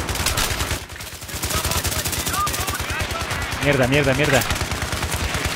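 Rapid automatic gunfire in the Battlefield 3 shooter, a fast regular stream of close, loud shots running throughout while someone talks and curses over it.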